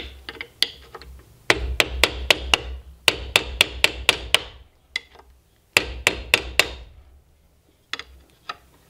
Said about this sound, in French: Donc tournevis, marteau.